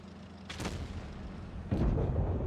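Two heavy tank cannon shots in World of Tanks Blitz, involving a Bat.-Chatillon 25 t Avenir, booming about a second apart over steady engine and battle rumble, the second blast louder and closer.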